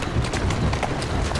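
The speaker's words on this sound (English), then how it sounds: "Who's a good horse? You are." Horse hooves clip-clop on a London street in the video game Assassin's Creed Syndicate, a quick steady rhythm of close hoof strikes over low rumbling ambience.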